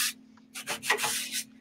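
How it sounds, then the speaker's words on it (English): A sanding sponge rubbed over decoupage paper on a painted drawer to distress it: a short scrape, a pause, then several quick rasping strokes close by, each a dry, gritty swish. "when you go over a transfer over like decoupage paper or anything with a sanding sponge, it's going to pull it down to that, the undercoat"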